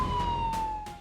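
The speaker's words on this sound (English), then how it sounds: "the sound of sirens fading in" A siren wails steadily at a moderate distance over a low rumble, with rhythmic swells in its tone.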